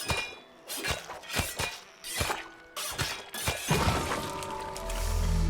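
In It Takes Two, glass shatters repeatedly in a greenhouse as an object is struck again and again, giving sharp clinking breaks in a quick uneven rhythm that end in a final sustained crash.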